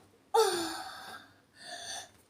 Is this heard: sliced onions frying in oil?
no